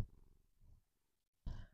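A male cat purrs close by while being held, a soft, low rumble in short quiet bursts with a pause between them and no talking.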